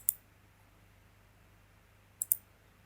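A computer mouse clicking an OK button in data acquisition software: one faint sharp click at the start, then a quick double click near the end, over near-silent room hum.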